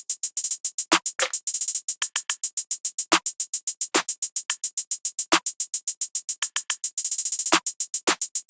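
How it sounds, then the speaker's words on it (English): Open percussion from a Legacy multi-kit in an FL Studio trap beat, rapid ticking hits in a steady stream with periodic louder rolls and accents, crisp and bright, played alone without any voices. "Then this open percussion out of my Legacy multi-kit,"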